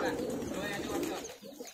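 Old highflyer pigeons coo softly from close by, a low burbling call that fades near the end, with voices mixed in.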